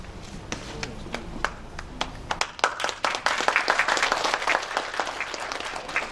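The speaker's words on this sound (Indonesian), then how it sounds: "Tepuk tangan dulu Bu, yang meriah Bu" Audience members at an Indonesian community health and nutrition event clap, scattered claps at first, then swelling into dense, lively applause, with a voice talking early on.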